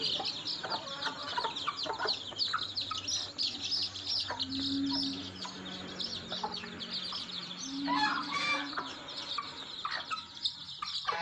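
Village hens cluck and fuss in a yard, bursts of clucking and squawks with two drawn-out calls, surrounded by chirping small birds, fairly close and busy throughout, no speech.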